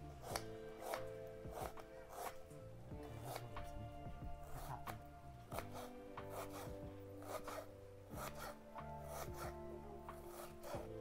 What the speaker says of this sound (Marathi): कांदा पण कापून घेते